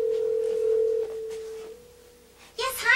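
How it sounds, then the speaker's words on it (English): Telephone being dialed: a steady dial tone hums for about two seconds, then dialing tones chirp briefly at the end, fairly clear and close. "Why don't we call Mayor Ben"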